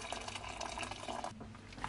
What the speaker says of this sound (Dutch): Nu voeg ik nog een deel kokend water eraan toe